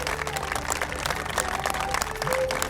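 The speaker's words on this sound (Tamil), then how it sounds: "எனவே இன்றைய கிருஷி சோப்பாலை ஒரு பெரிய கைத்தட்டலுடன் தொடங்குவோம்." Applause from an audience opening a Krishi Chaupal farmers' programme, a steady dense wash of clapping filling the whole moment at moderate level.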